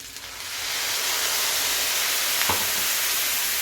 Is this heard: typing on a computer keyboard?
no